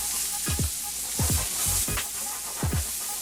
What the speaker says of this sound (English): I'm gonna let that saute for a couple minutes.